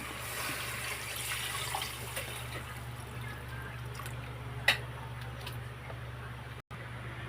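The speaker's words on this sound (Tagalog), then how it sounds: "pwede na natin ilagay ang tubig" Continuous rush of water poured steadily into a cooking pan of chicken, with a faint clink partway through and low background hum.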